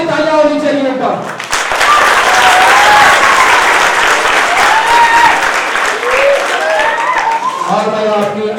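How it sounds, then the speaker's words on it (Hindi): A community gathering in Nizamabad breaks into loud, sustained applause for the urban MLA, dense crowd clapping close and full, with voices and chatter mixed in over the clapping. "उनके लिए बहुत सारी तालियां होनी चाहिए एक बार।"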